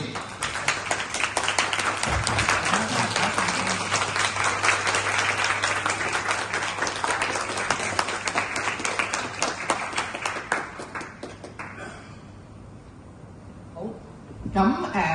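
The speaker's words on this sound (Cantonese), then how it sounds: "咁我哋俾啲掌聲啊 Sandy！" An audience at a LOMA insurance qualification event gathering around Christmas claps together for Sandy. The dense, steady applause lasts about eleven seconds, then fades to quiet room sound with a few scattered claps.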